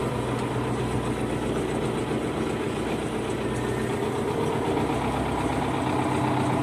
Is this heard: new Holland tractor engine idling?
yes